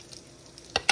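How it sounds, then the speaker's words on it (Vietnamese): Shrimp fry in a pan for Vietnamese shrimp cakes, with a quiet, steady sizzle broken by two brief louder crackling bursts near the end. "tôm là mình chiên lên cái dần dần như nè"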